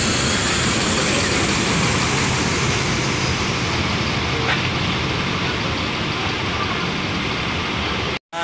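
A bus pulling into Grogol bus terminal amid steady loud traffic and engine roar, continuous throughout with a brief faint hiss, no talk over it.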